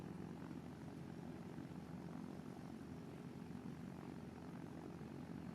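A propeller airplane engine in the video game Roblox drones steadily and faintly, an even buzzing hum that holds without change throughout.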